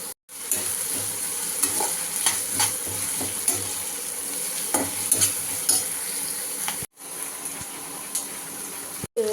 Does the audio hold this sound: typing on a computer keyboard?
no